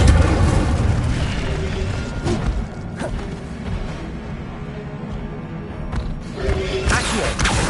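Fiery whooshes and booming bursts of the Incendio fire spell in the video game Hogwarts Legacy, several blasts spaced across the stretch over a dense, continuous game soundtrack of rumble and clatter.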